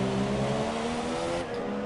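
An F1 car engine in F1 2017 screams at high revs, a steady loud whine that dips slightly near the end, with no voices present.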